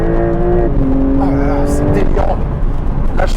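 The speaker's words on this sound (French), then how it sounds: "Là, je freine à fond." Porsche 911 (992) Turbo S Cabriolet braking hard, its loud close engine note falling steadily in pitch as it slows, with a couple of short rising blips near the end.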